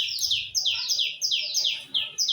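Small birds chirp near potted petunia plants in a garden, giving a rapid run of bright, high tweets repeated in quick bursts, fairly close and clear over quiet background.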